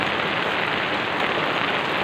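Rain falls in a steady, close hiss with a dense patter on a surface, even and unbroken, with no voices.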